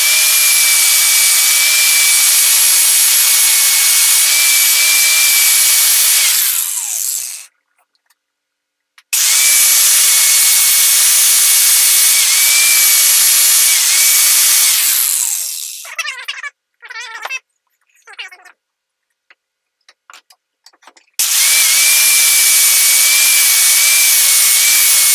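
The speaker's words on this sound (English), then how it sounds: "I'm now using a 24 grit, 1/4 inch thick aluminum oxide abrasive disc to try to get some of these angles into it." Grinding with a 24 grit, 1/4 inch thick aluminum oxide abrasive disc on a power grinder, a loud, steady high-pitched whine in three long passes, separated by silence and short scraping bursts.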